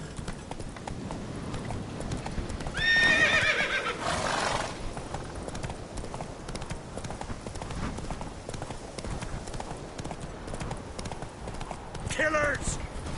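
A horse's hooves clip-clop steadily over a noisy backdrop, with a clear whinny early on and another near the end.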